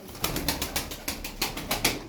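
Flying-breed pigeons, some with clipped wings, give a close series of about eight regular fluttering bursts, like wings flapping or birds shuffling, over a low cooing background.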